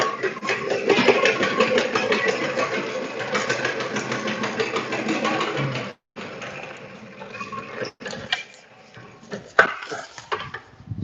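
A ramen noodle-making machine runs with a dense rattling, whirring clatter that drops off sharply midway, followed by quieter intermittent clanks and knocks; faint voices come through in the background.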